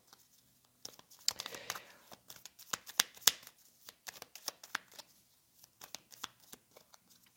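Tarot cards are shuffled and handled close up in a run of crisp riffles, flicks and papery slaps. The sound starts and stops in irregular bursts with short pauses between them, and there is no speech.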